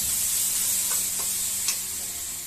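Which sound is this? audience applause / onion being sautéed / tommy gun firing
onion being sautéed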